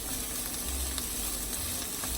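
Hatch chilies fry in a pot with a steady, dense crackle and hiss of hot oil, close and continuous, with faint scraping stirs now and then.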